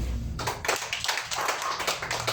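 A church congregation claps for God in a rhythmic, fairly quiet burst of repeated hand claps, evenly paced and heard without talk.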